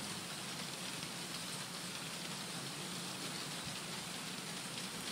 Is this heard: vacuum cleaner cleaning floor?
no